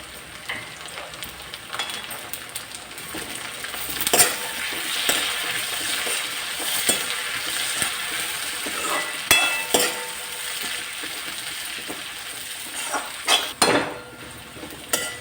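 Curry leaves and green chillies fry in hot oil for semiya upma, a steady bright sizzle with occasional scrapes and clinks of a spoon against the pan.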